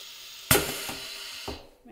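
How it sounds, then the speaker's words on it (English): A lotion filling machine clunks to life with a loud burst while priming, followed by steady whirring and a couple of thumps, then it winds down near the end. "we're going to want to put it in our lotion filling machine"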